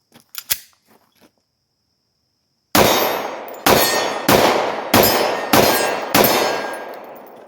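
Six shots from a Sig P250 double-action-only pistol ring off a steel target, each a sharp crack followed by a bright metallic clang that decays over roughly a second, spaced evenly after a few faint knocks and a pause.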